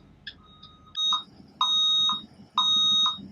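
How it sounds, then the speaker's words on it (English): A school bus emergency exit alarm sounds during a pre-trip inspection, a loud electronic buzzer giving repeated long beeps, about three in a row, close by. "make sure the alarm comes on."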